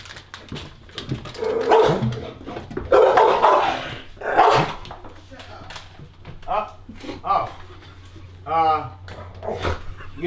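A pit bull kept tied up in a basement barks in short bursts and whimpers, close by, while people talk soothingly over and between the barks.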